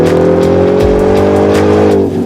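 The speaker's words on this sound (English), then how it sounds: "Hearing that V8 rumble and hearing the supercharger whine, it's pretty hard to beat." Supercharged V8 of a Ford Raptor R pickup, revving loud and close with a steady deep rumble and a rising supercharger whine over roughly two seconds, easing off at the end.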